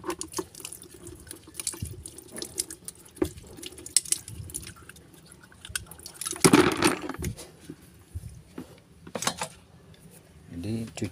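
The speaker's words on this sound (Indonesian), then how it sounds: "kita akan mencuci karburatornya" Water running from a tap while a motorcycle carburetor is washed by hand, intermittent splashing and trickling with a louder gush midway, fairly close, with some talk in the background.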